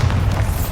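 A Bombarda explosion spell going off in Hogwarts Legacy, a single deep, loud boom rumbling low for under a second with no voices over it.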